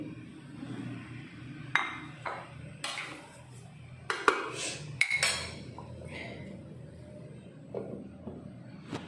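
Sesame seeds are stirred intermittently while dry-roasting in a pan for a spicy flaxseed powder, giving quiet scattered scrapes and sharp metallic clinks and taps of the spoon against the pan, close with pauses between.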